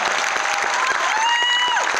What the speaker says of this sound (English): Let's round of applause for those ladies.